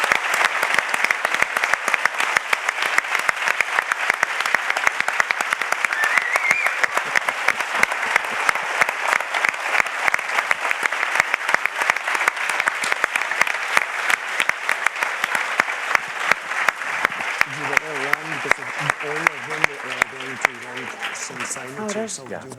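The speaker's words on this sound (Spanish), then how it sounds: "Te despedimos con un súper aplauso" An audience at a talk with an author breaks into long, sustained applause, dense and even, with a voice speaking over it near the end.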